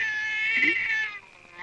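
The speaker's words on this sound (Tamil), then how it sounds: "இது பூனை, இது கூட பரவாயில்ல, அது கத்தனா கத்திட்டு போட்டோம்" A cat meows loudly in one sustained, wavering call that fades briefly and rises again at the end, with no talking over it.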